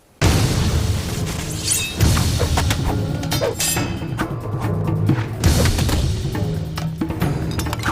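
Pyrotechnic blasts erupt in an action movie fight scene, loud, dense booms and crashing debris that roll on continuously, with renewed bursts near the start, at two seconds and around five and a half seconds.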